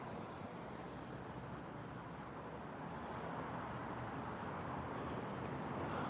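Steady, dense roar of cars driving past on a busy West Hollywood street during the Halloween parade, continuous and fairly close with no clear gaps between vehicles.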